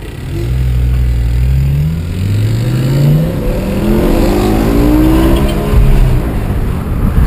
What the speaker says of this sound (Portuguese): Troca de marcha dela é violenta